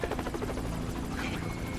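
Helicopter rotor in GTA Online, a steady loud chopping drone with rhythmic blade pulses throughout, heard from close inside a game firefight scene.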